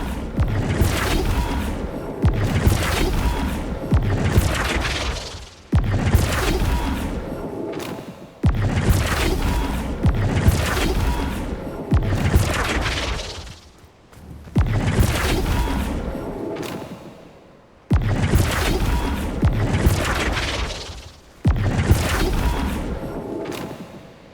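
Flipendo spell impacts from the Hogwarts Legacy video game, a series of loud booming thuds roughly every three to four seconds, each with a broad noisy burst that decays before the next strike.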